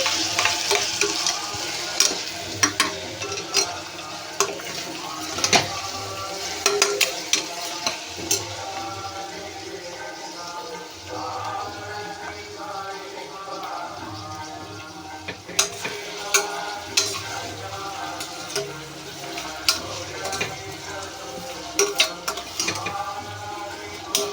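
Garlic and onions fry in a pan alongside chillies for a mutton egg curry, a sustained sizzle with frequent clattering stirs and spoon knocks against the metal, loud and close throughout with no voices.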